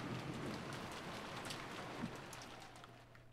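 Steady rain pours outside a mansion in the Umineko visual novel game, a dense continuous hiss that stays at an even level throughout with no voices.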